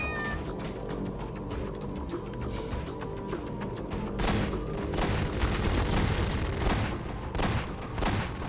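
Cat meowing inside the Half-Life 2 video game, audible amid a busy, continuous mix of gunfire bursts and booming combat sounds.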